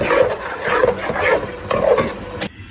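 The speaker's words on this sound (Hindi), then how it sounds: "मैं इनकी भी मसाले की अच्छी तरह भुनाई करूँगा।" Masala being stir-fried in a pan while brinjal and potatoes fry, giving a continuous close sizzle with rhythmic scraping strokes of a spoon and a couple of sharp metal knocks before it suddenly stops.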